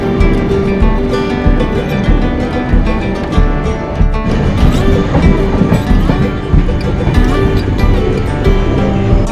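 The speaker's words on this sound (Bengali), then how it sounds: "ধানবাদ থেকে এখন ট্রেন ছাড়লো" A Duronto Express train running on from Dhanbad station, with steady loud rumble and rhythmic clickety-clack of the carriages over the rails, continuous and close throughout with no talk.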